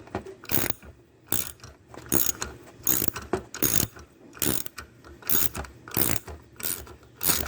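A ratchet turns a valve spring compressor on a 5.3 LS cylinder head in a garage, with short bursts of sharp clicking separated by brief pauses, close and clear.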